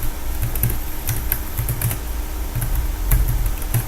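Typing on a computer keyboard while navigating folders, with steady bursts of clicking keystrokes in irregular rhythm over a constant low background hum, close and clear with no talking.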